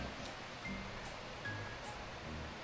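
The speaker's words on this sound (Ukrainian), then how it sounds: "Ось це річка наша." A river with a small waterfall in Ontario on a warm autumn day, heard as a steady, broad rushing wash of water that carries on evenly from start to finish, fairly faint and without any voices.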